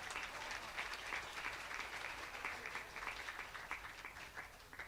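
Crowd applause at a pesantren vocational school gathering, sustained many-handed clapping at a steady, moderately faint level, without voices on top.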